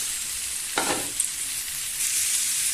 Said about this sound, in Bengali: ভেজে রাখা আলুটা দিয়ে দিচ্ছি।